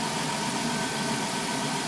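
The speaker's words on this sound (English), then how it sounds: "I can tell right away it has less exhaust noise." A 2002 Dodge Caravan 3.3 engine idles steadily with a low, even exhaust rumble, close by and continuous, with no voices.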